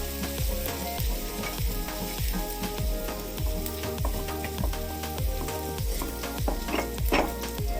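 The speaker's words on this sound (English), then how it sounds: "Now I'm adding the garlic buds, all the garlic buds in the, I'll reduce the flame now." Garlic cloves sizzle in hot oil for garlic pickle, a constant close frying hiss broken by repeated scraping strokes of a stirring spoon at a regular pace, with no talk.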